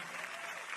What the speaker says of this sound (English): so everyone's responding to this by clapping